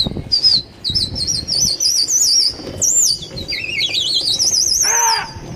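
Pigeons flap their wings in bursts of fluttering, with loud warbling whistles sounding repeatedly above and a brief thud near the end.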